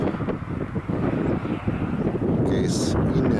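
Strong wind roars across the microphone in a continuous low, rumbling gust with little letup.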